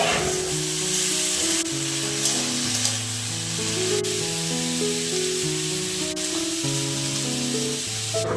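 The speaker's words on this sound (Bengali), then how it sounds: "আলুটা ওদিকে ভাজতে বসিয়ে" Potatoes frying in a pan for a white potato curry, a steady close sizzle running unbroken under a layer of tonal background music, with no talking.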